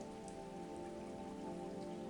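Steady rainfall, a soft, even hiss of drops on surfaces that continues without a break for about two seconds, with no voices.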